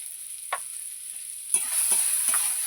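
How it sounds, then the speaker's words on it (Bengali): A spice masala of tomato, ginger-garlic paste, salt, turmeric and chilli powder sizzles in a pan, with a soft hiss broken by a few short scraping stirs that grow busier partway through. "মশলাটাকে আমি ভালো করে কষিয়ে নেব"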